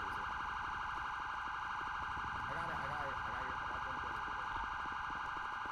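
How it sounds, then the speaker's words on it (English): A police siren in GTA 5 roleplay, a continuous electronic wail held steadily throughout, loud and unbroken, with faint background sounds underneath. "I hope that siren annoys you to a point you have to go back to it"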